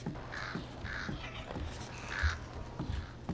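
Crows caw in startled bursts inside a Thief video-game attic at Aldale Bridge, a few harsh calls repeating over a steady low ambient hum at moderate volume.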